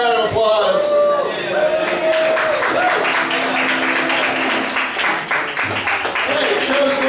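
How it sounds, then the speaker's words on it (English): Applause from a live audience at a variety show, clapping filling the room for several seconds under loud voices, a host talking over the crowd. "Tapeworm, everybody, give him a round of applause."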